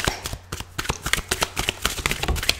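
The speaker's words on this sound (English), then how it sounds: "Sometimes it takes a bit of time to do the shuffle because they want a very specific card." Tarot cards being shuffled by hand, a rapid series of crisp riffling taps and slaps close by, steady and busy throughout with no talking.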